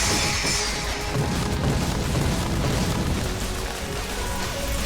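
Dense, continuous crashing and booming explosions from a Touhou boss fight against Junko, a bullet-hell video game, roaring loudly throughout with a steady wash of blasts and no talking.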